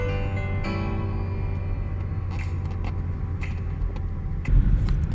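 A cheap beater car with rough brakes drives around the block, its engine a steady low rumble with a few faint rattles and a louder thump near the end.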